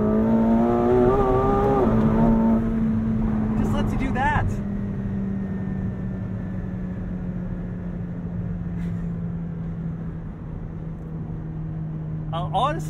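A McLaren 720S Spider convertible's engine drives fast: a loud, steady drone whose pitch climbs briefly at first, then settles into a long sustained cruising note, with a few short sharper noises layered over it.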